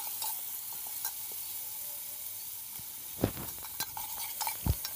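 Ginger garlic paste frying in a pan, a steady soft sizzle with occasional sharp stirring scrapes and clinks of the spatula against the pan, no talking.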